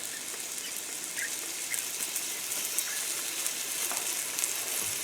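Chicken thigh pieces and vegetables frying in oil in a pan give a steady, close hiss of sizzling with small crackles and pops throughout, no talking over it.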